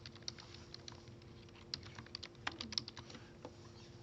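Quick, fairly quiet keystrokes on a computer keyboard, irregular bursts of clicks over a faint steady hum in a quiet room, with no one speaking.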